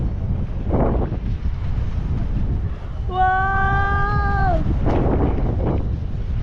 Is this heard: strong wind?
yes